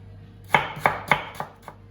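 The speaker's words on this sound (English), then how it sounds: "So that's all chopped." A knife dices half a cooking apple on a board, five crisp, evenly spaced chops sounding close and clear with no talk.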